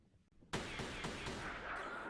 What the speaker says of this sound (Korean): 그 순간 그 정적을 깨는 몇 발의 총성 소리